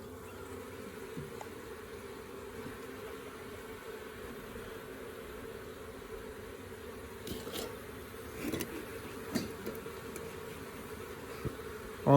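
Honey bees from a newly installed package buzz in a dense, steady, faint drone, with a few soft knocks and scrapes from frames being handled.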